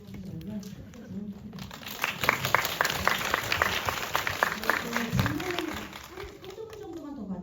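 An audience at a film screening Q&A gives a short burst of scattered, fairly close clapping that swells and fades within a few seconds, with a voice speaking over it.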